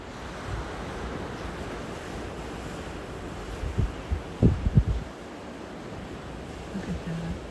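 Winter ocean surf off the Connecticut coast in high wind, a steady roar of waves and gusts with heavy wind buffeting on the microphone, swelling into a few louder crashing surges midway.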